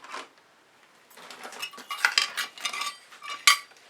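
Ceramic or plastic scrape dish being picked up among acrylic paint-pouring supplies, with a quick clatter of dishes and utensils knocking together, several close clinks and rattles, the loudest near the end.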